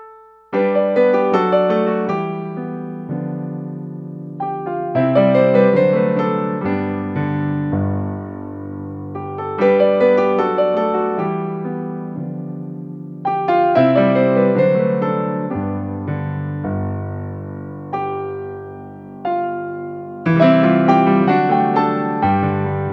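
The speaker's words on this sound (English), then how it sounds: "Piano 2 sounds like this." A Korg Liano digital piano plays a flowing melody with chords on its Piano 2 voice, each phrase struck firmly then decaying, repeating in gentle waves with no talking.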